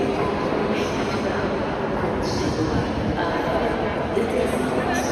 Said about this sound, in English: there's a train departing right now